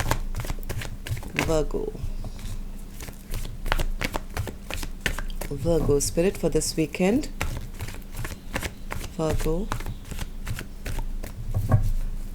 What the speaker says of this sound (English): let's give this a good shuffle as well. 3 shuffles, Spirit.